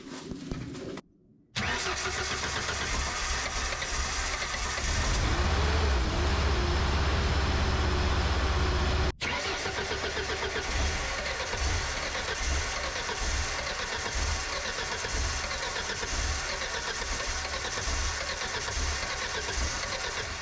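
A boom lift's gas engine cranks repeatedly and tries to catch while its ignition sparks only intermittently, giving a steady loud churning drone with uneven lumpy pulses across about twenty seconds and a couple of brief dropouts.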